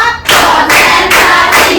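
Children in a classroom clap together in four loud, evenly spaced group claps, each a broad burst with a short gap between, close and with no voices over them.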